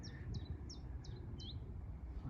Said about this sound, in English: I've got plenty of willow warblers in here.